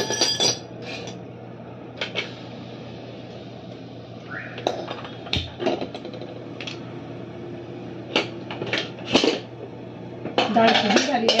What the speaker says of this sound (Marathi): कढई गॅस ठेवूया.